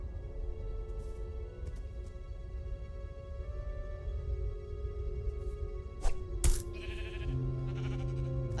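A sheep bleats inside the Minecraft: Story Mode video game, a short cry rising near the end over a steady bed of game music and ambient tones.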